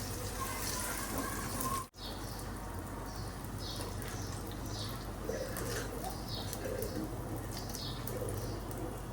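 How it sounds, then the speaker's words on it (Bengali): Pigeons coo softly in short repeated calls around a home kitchen, steady against a constant background hum, with a brief dropout early on and no speech. "কবুতরগুলো যে কি করে না এখানে"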